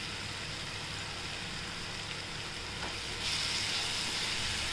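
A ground coconut and garlic paste fries in a pan with a steady, close hiss of sizzling that runs throughout and grows a little louder toward the end.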